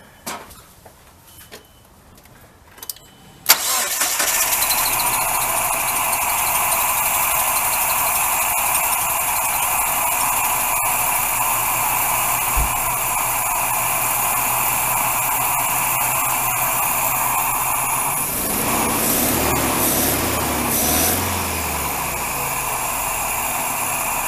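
A misfiring Nissan engine starts after a few clicks and settles into a steady, loud idle with a constant whine and hum, shifting slightly near the end.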